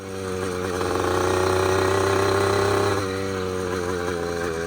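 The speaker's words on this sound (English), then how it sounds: "It actually sounds like a dirt bike." Razor 2-stroke dirt bike engine fitted with a new exhaust, idling and revving steadily at close range with a buzzing, raspy tone that rises slightly and then settles, no voices.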